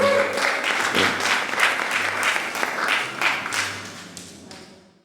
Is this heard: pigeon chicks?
no